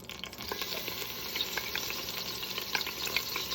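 Garlic and minced ginger sizzle and pop in a hot pan while cooking keto zucchini noodle ramen, a continuous crackling fry at moderate level with scattered small pops, no voices.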